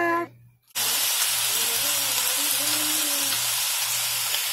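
Cabbage and carrots hit a hot pot, setting off a sudden loud, continuous sizzle and hiss that starts abruptly after a brief quiet moment and holds steady.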